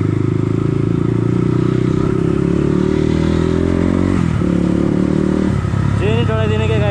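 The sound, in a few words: motorcycle engine riding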